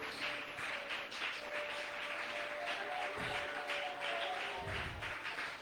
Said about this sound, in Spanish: Aplaude el nombre del Señor